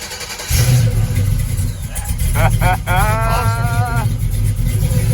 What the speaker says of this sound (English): try to fire this thing up?